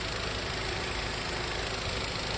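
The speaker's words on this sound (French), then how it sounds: "c'est un petit moteur, mine de rien" A small one-litre Audi TT TFSI petrol engine idles, a steady, even mechanical hum with a faint low rumble and no revving, heard close and alone.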